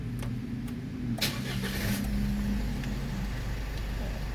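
A car with an aftermarket push-button start and manual gearbox fires up, a brief starter burst settling into a steady, close idle rumble, with no talking.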